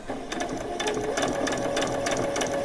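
A sewing machine stitches fabric for a frilled top, running forward, then back-stitching, then forward again: a steady, close, fast mechanical whirr and patter with no pauses and no voices.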